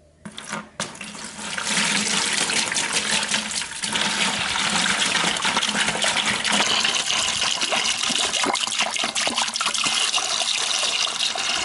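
Distilled water poured into the cooling system of a K40 laser cutter, a steady loud gushing splash that runs continuously after a brief start.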